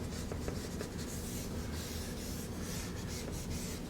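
Pen or pencil drawing a continuous line on paper, a steady scratchy scribbling that runs without pause throughout, close and fairly loud.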